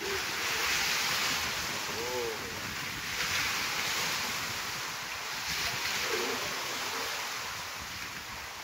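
Ocean waves break and wash along the shore of Mousuni island beside the saltpans during a high spring tide, a steady broadband surf with gusting wind across the microphone and swells rising and falling throughout.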